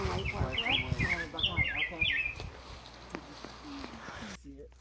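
A small songbird sings in a summer forest at Sax-Zim Bog, a run of bright, quick chirping phrases repeated over a few seconds, moderately near, with a voice talking over it.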